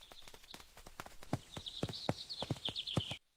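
A donkey's hooves clip-clop in a steady walking rhythm, close and fairly quiet, with a thin high tone running above the footfalls and no talk.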